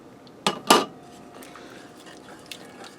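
Rinsed, drained canned pinto beans tumble into a pot of chili sauce for a chili dog casserole, giving two quick close clinks and splats followed by a quiet, faint kitchen background.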